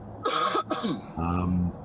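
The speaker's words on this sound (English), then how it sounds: "Please forgive my cough." A few coughs and throat-clearing sounds from someone talking about a missing-child case, two harsh bursts followed by a lower, rougher clearing, close and fairly loud.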